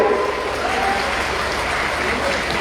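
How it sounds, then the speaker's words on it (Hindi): Crowd applause at an outdoor political rally, a sustained, fairly loud wash of clapping with a faint murmur of voices underneath, holding steady throughout. "सभी लोग जहां बैठे हैं जोरदार ताली बजा के"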